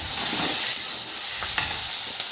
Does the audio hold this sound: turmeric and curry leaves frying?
yes